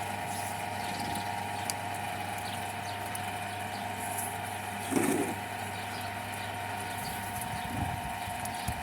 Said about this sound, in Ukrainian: зразу відчувається, що двигун трішки присідає